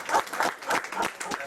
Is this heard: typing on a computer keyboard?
no